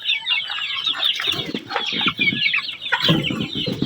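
Young chicks clucking and peeping together right after being fed, the soft overlapping calls steady and close throughout, with a louder burst of clucks near the end.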